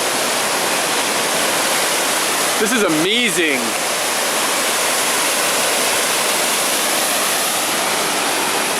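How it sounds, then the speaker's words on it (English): A waterfall on the Izu Peninsula roars in a loud, steady wash of broadband noise, with a voice speaking briefly over it. "Now that's a waterfall."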